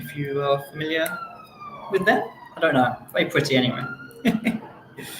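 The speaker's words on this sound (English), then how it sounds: "There keeps being like sirens going past." Emergency vehicle sirens pass outside, their wailing tones rising and falling in the background beneath someone speaking close to the microphone.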